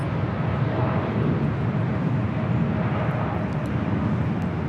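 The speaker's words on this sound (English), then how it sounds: "American Airlines Flight 27 taking off to Tokyo Haneda on the 787-8 Dreamliner." An American Airlines Boeing 787-8 Dreamliner taking off at LAX, heard as a steady, broad low-frequency engine roar and rumble, constant in level throughout with no talk.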